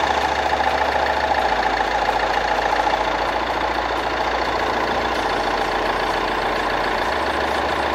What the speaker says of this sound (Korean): 엔진 소리 일정하고 좋습니다.